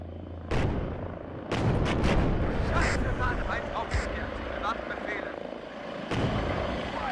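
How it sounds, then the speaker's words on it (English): A helicopter arrives in the Cold War strategy game WARNO amid battle, its rotor din blending with loud artillery booms and gunfire bursts that recur throughout, with voices talking over the combat. "Our helicopter has arrived."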